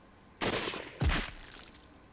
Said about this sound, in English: A shower of bullets came one after the other, and they tore through the flesh of our bodies.